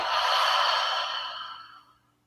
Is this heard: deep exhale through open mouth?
yes